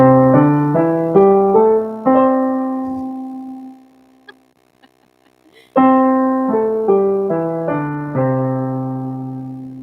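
Piano runs up a pentatonic scale in quick, even notes, holds a ringing tone, pauses near silence, then plays the ascending run again.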